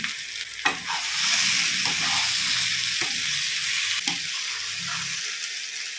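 Vegetables and green peas stir-fry in a pan for a vegetarian drumstick-flower curry, a steady close sizzle broken by repeated scraping strokes of a spatula.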